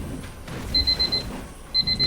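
An alarm in the dungeon-building game Dungeons 3 beeps in two short bursts of rapid high-pitched pulses, each burst lasting about half a second, over a low background rumble of game ambience.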